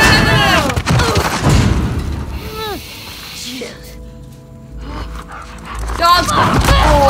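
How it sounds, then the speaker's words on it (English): Dogs bark and snarl while attacking in The Last of Us Part II, with sharp yelps and growls near the start and end, mixed with loud shouting players. "Dogs!"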